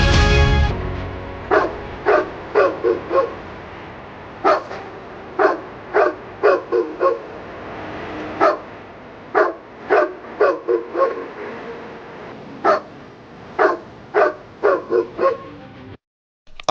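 Stray dogs bark repeatedly in short, loud bursts, some clustered in quick pairs and runs, clear and close with no talk over them.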